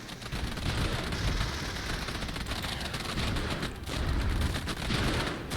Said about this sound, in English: Yeah, the mortar is automatically shooting.